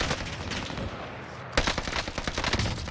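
Rapid automatic gunfire with incendiary fire bullets in the Warzone Pacific video game, loud close bursts of repeated shots that thin out, then a sharp fresh volley of cracks near the midpoint followed by more firing.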